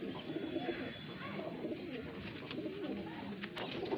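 Female highflyer pigeons held in a loft coo and call softly and steadily throughout, layered among a dense, busy backdrop of other birds.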